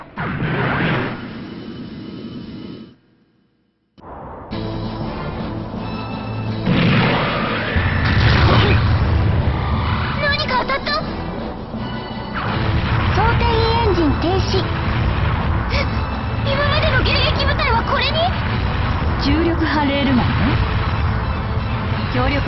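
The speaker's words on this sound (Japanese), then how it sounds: "それではグラビティブラスト行きます。" Gravity Blast weapon fire from a battleship in the Another Century's Episode 2 mecha video game, a heavy booming blast with rumbling impacts that runs loud and continuous under character voices after a short silent gap.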